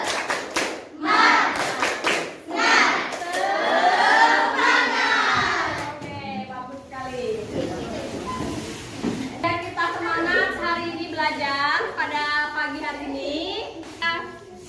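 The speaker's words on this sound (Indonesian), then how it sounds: "Coba deh lah pimpin tepuk semangat. Tepuk semangat." A school class performs the rhythmic clapping chant tepuk semangat, bursts of hand claps alternating with voices chanting together, loud and close in a classroom.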